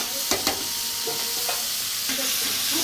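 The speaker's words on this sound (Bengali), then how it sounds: "এবার আমি কষিয়ে নেব। লো টু হাই ফ্লেমে কষাতে হবে" Meat coated in spice paste stir-fried over medium flame, a loud steady sizzle broken by several scraping spatula strokes and clacks against the pan.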